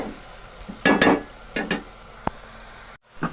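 Sliced onions fry in a pan for a pumpkin curry, a soft sizzle broken by a few scraping stirs of a spoon against the metal, close and fairly quiet.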